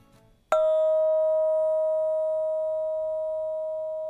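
A vibratone is struck once with a mallet, giving a sharp attack followed by a pure, steady ringing tone that decays slowly over several seconds, heard alone and close.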